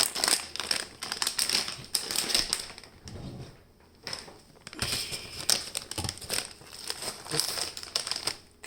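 Plastic bag of mixed vegetables crinkling and rustling near the stove as they go into a pan, in several bursts with a short lull between.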